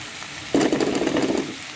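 Tomatoes and green chilies with turmeric hit a hot pan in a sudden close sizzle that lasts about a second before fading back to quiet.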